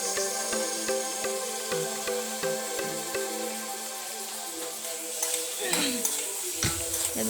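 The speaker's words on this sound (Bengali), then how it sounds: "আলুগুলো একটু নাড়াচাড়া করে ভেজে নিয়ে ওর ভিতরে দিয়ে দেবো সজনের ডাঁটাগুলো" Potatoes and drumstick pieces are stirred and fried in a pan for a fish curry, giving a steady sizzle with scraping spoon strokes and metallic clinks against the pan. A few louder knocks come near the end.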